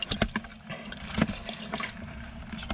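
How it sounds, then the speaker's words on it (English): A net's worth of live bait, grass shrimp and minnows, is tipped into a bucket with a little water, giving close splashes, drips and trickles in a quick irregular burst that fades to small dribbles. "I'm dumping this net's worth of bait into this bucket with a little bit of water."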